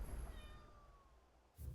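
A pet cat meows once, a short, faint rising-and-falling cry against quiet room background, followed by a brief low bump at the end.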